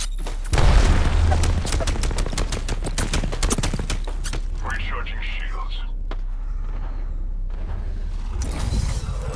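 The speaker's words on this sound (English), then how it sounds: "Eyes up. Grenade." A sharp grenade blast bursts in a video game firefight, a loud boom near the start followed by rapid gunfire bursts, clattering impacts and a fizzing tail, with a voice talking over parts of it.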